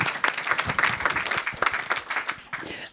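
A crowd at a business council talk applauds with dense, continuous clapping that holds steady for a few seconds before tapering slightly at the end.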